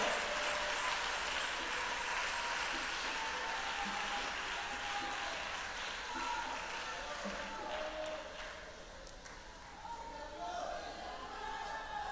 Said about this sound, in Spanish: Dale el aplauso a Cristo, dáselo fuerte